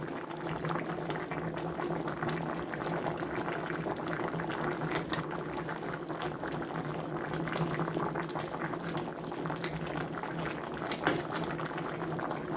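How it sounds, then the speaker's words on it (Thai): Chicken and pumpkin curry boiling in a pot, a steady close bubbling and churning of liquid throughout with no talk. "เดือดได้ที่แล้วค่ะ"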